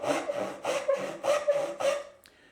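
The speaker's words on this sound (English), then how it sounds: "Here's a traditional saw sound." Traditional hand saw working through wood, six or seven rhythmic rasping strokes close by, steady and fairly loud, ending with a brief click and quiet.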